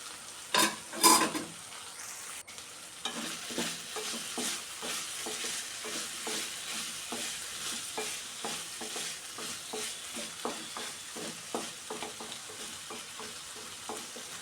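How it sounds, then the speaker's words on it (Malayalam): Cubes of elephant foot yam frying in a pan, stirred with a rhythmic scraping and sizzle after a couple of louder knocks at the start, close and steady with no talking. "അല്പസമയം കഴിഞ്ഞ് മൂടി തുറന്ന് ഇളക്കി കൊടുക്കുന്നുണ്ട്."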